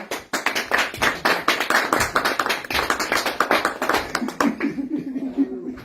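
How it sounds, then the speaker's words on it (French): Classroom audience clapping for a latecomer, a fairly small group giving sharp, distinct claps in a quick rhythm that thins out near the end, with a little laughter and a voice underneath. "on peut l'applaudir pour le retard"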